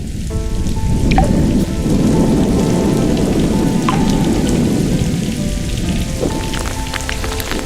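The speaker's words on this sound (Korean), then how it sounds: "마른 땅을 적시는 반가운 비." Rain falls steadily on dry ground in the Gobi Desert, a loud, dense hiss with scattered drips and splashes that continues throughout.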